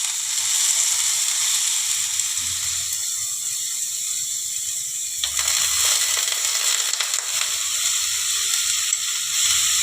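Grated bottle gourd fries in a spoonful of ghee for a sweet barfi, giving a constant bright crackling sizzle, with a sharper burst midway as more gourd lands in the pan.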